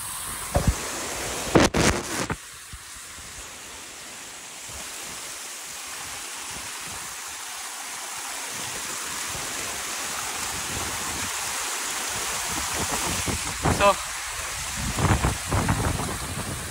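A waterfall and stream on a trekking route in the Anjaneri hills near Nashik rush in a steady, dense roar of falling water, with a few brief knocks near the start and end.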